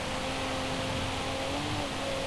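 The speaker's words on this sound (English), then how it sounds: "And the V6 is definitely a punchy engine" Cadillac CT4-V Blackwing V6 in Forza Horizon 5 runs at high, steady revs with a strained engine whine that bends slightly in pitch, loud and unbroken over a short burst.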